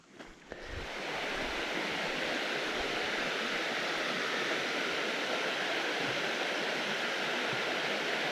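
Creek water cascading along a wooded creek bottom on the Sourwood Trail, a steady, full rushing wash that rises within the first second and then holds constant and close.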